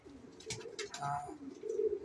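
Belgian bloodline pigeons coo softly in a low, throaty rumble, a few soft calls spread across the moment with faint background rustle.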